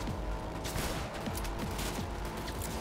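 A gun firing in the video game Cyberpunk 2077, a rapid burst of repeated shots in close succession, moderately quiet and continuous across the few seconds, without speech.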